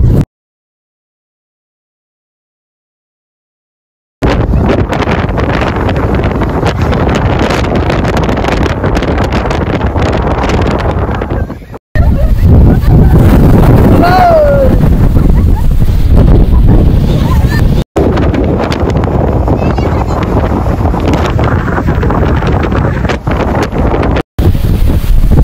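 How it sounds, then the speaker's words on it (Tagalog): Strong wind roars and buffets the microphone almost continuously after a few seconds of silence on the Apao Rolling Hills in Abra, with brief cutouts and voices faintly underneath. "Grabe naman yung lakas ng hangin dito."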